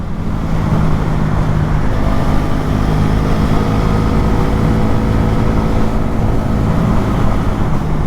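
A Bajaj Pulsar NS400 motorcycle riding through Kyiv in the evening, a steady, loud broadband engine drone mixed with wind and road roar that stays constant throughout, with no clear speech.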